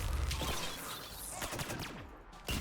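Cluster grenades burst in a rapid string of sharp cracks and thuds amid combat noise in the Mass Effect 3 video game, fairly close and moderately loud.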